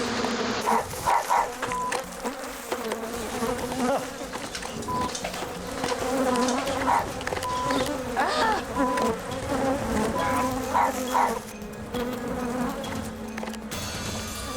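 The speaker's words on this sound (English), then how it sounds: "Back at Geraldine's house, JD removes a hive of angry bees from a tree" Swarm of angry bees buzzing continuously around a hive in a tree, a dense droning hum that stays fairly close, with a dog barking and yipping intermittently underneath.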